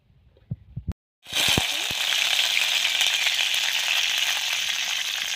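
After a few light clinks and taps, mustard seeds and cumin hit hot oil in a pan with a sudden loud sizzle that stays as a dense, steady close hiss to the end.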